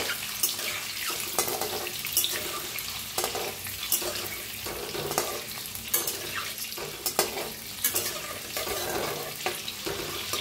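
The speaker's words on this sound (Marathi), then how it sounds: "आता अंडे जरा फिरवून घेऊया।" Eggs turning and frying in oil in a pan for masala eggs, a steady close sizzle broken by repeated scraping stirs and clinks at a loose rhythm, with no talking.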